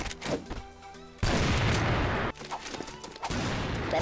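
Rifle shots from an M700 sniper rifle in the shooter game CrossFire, a few loud sharp cracks with dense bursts of noise around them in a busy game mix.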